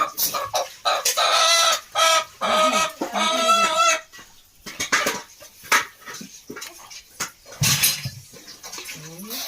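A village rooster clucks and squawks in agitated bursts close by as it is being slaughtered, mixed with clattering dishes and occasional voices.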